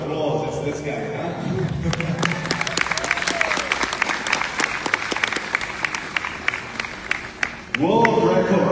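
An audience at a Binghatti property event in Dubai breaks into sustained clapping, with scattered sharp claps over a crowd wash and a voice speaking before and after.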